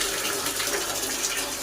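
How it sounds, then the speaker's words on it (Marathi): A tap running water for a bath at home gushes in a steady, close, continuous stream with no pauses and no speech. "पाणी चालू करतो."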